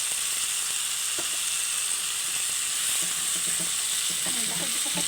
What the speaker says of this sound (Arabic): نشوحهم معانا مع بعض